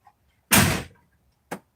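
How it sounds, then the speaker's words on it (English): A door opens with a short, firm knock-like bump, then a second quicker thud a second later, fairly close and moderately loud in an otherwise quiet room. "Leave the door open."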